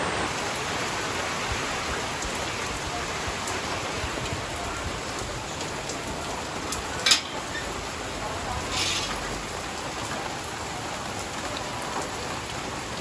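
Heavy rain falls during Typhoon Pepito, a dense, steady hiss of downpour that runs throughout, with a brief sharper knock partway through.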